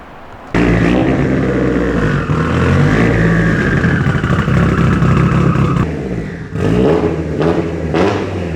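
A 2004 Mitsubishi Evo 8 RS engine roars loudly while driving, revving steadily, dipping briefly near the end and then pulling again.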